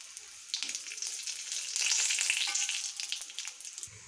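Whole cumin seeds and a bay leaf sizzle steadily in hot mustard oil in a kadai, cooking a vegetarian pumpkin and Malabar spinach dish. The frying hiss is close and continuous, swelling louder midway with no talking.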